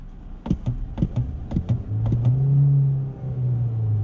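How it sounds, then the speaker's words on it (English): A car with a dual clutch transmission revs while its clutch slips: several short throttle blips, then a sustained, close engine drone with a wavering pitch as the revs rise and hang. "So the car is revving, but it seems like the clutch isn't engaged."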